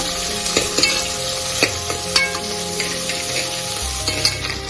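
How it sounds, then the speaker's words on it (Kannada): Onion and curry leaves fry in a pan for a village-style drumstick-leaf sambar, giving a continuous crackling sizzle with scattered sharp pops and spoon-stirring clinks, and no talking. "ಸ್ವಲ್ಪ ಈರುಳ್ಳಿ ಒಂದ್ ಕಡ್ಡಿಯಷ್ಟು ಕರಿಬೇವು ಫ್ರೈ ಮಾಡ್ಕೊಳ್ಳೋಣ"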